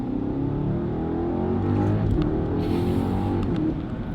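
A BMW G90 M5 with a Valvetronic Designs valved sport exhaust accelerates hard, its deep engine roar climbing steadily in pitch with a brief shift dip, heard from inside the car.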